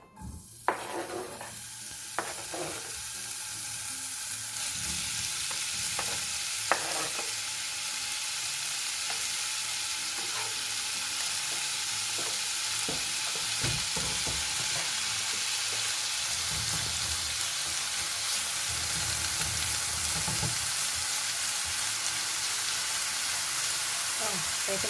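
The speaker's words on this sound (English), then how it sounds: "Gonna fry some bacon." Bacon frying in a pan, a steady close sizzle with occasional pops and soft scraping as the strips are stirred and broken up.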